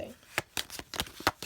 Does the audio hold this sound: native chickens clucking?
no